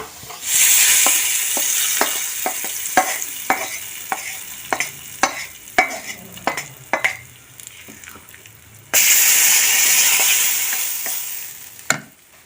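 A hot tempering of fried shallots and curry leaves in oil is poured into breadfruit curry, bursting into loud sizzles at the start and again partway through, with spoon taps and scrapes in between.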